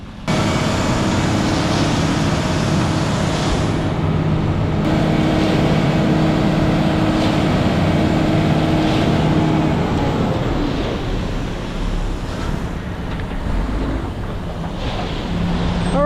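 A concrete mixer truck rolls in with a continuous low, rumbling engine drone that holds steady and eases slightly near the end, buffeted by wind noise outdoors.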